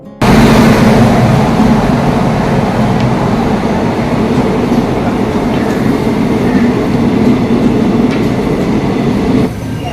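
A train rushes past close by, a loud continuous roar of wheels and rumbling carriages that stays heavy until it cuts off near the end.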